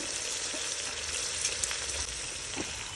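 Fish is stirred into a curry in a pan on a home stove, with a steady frying sizzle and a few soft scraping stirs, heard close up and without talk.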